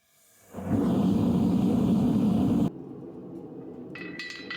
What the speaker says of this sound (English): Some of the blades weren't quite straight, so I turned on the forge to fix that.